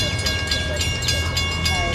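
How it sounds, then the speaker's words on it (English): Train rolling past nearby, loud continuous rumble with rhythmic clatter and squealing wheel tones, the noise steady across the whole moment. "let's wonder that as the train goes by"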